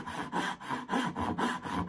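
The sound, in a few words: hand saw starting a cut in timber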